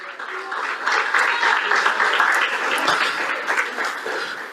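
A church congregation claps for the Lord during a worship service, a sustained wash of applause with shouts and voices rising within it, moderately loud and continuous.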